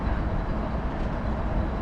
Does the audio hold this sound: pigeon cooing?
no